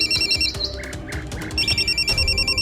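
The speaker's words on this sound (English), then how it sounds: "hears the phone ringing, and answers it" An electronic telephone ringtone trills in repeated beeping bursts, fairly loud and close, over a low rumbling background during an action scene staged with Nerf blasters.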